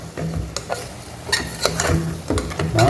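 Camel meat curry is stirred in a pot with repeated scraping strokes of a utensil against the metal, each a short rasping sweep over a faint sizzle, loud and close.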